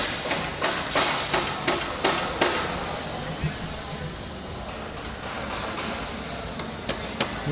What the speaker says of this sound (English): nailing on the first light